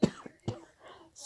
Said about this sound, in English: Excuse me for the coughing, dry air.